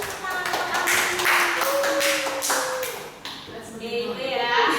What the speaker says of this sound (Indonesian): Mari kita beri tepuk tangan untuk Ami.